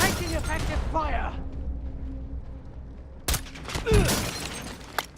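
Video game gunfire, with a few broadband shot bursts near the end that cut through steady background noise, mixed with a speaking voice early in the clip.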